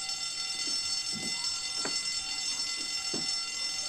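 A fire alarm rings steadily, with constant high electronic tones throughout, while brief muffled sounds and a voice-like call break in now and then.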